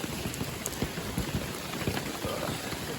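Rain patters steadily on a hiking tarp on the Appalachian Trail, a dense close drumming of drops with no talk.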